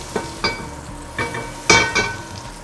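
A tablespoon of butter sizzles in a preheated pan, a soft hiss broken by several sharp clinks and scrapes of a utensil against the pan, heard close with no talking.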